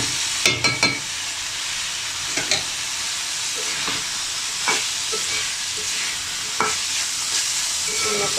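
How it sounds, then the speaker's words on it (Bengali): Boiled vegetables being stirred and fried in oil with cooked-down spices, a steady close sizzle and hiss with repeated scraping stirs of a spoon in the pan, no talking. "আমি এখন এখানে সবজিটা দিয়ে দিচ্ছি আমি সেই সিদ্ধ করে রাখা সবজিটা দিয়ে দিচ্ছি"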